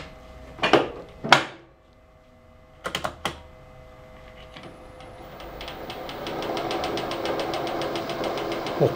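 A stud-extractor motor runs in high-speed gearing while removing a broken stud from an oil housing. A few sharp metallic clicks and knocks come first, then the steady motor whine rises and builds toward the end.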